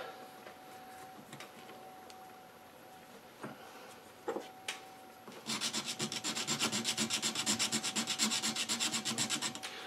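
A wooden tobacco pipe tenon is being filed by hand, with scattered soft scrapes and taps at first, then a steady run of rapid, rhythmic rasping strokes that grows louder and continues to the end.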